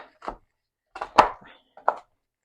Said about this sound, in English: Just doing a nice little chop on those.